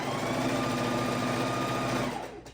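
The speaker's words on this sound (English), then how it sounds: "we're going to go ahead and sew a 1/4 inch strip" Sewing machine running steadily while stitching a quarter-inch border strip onto a pastel quilt, a loud continuous whir that stops just before the end.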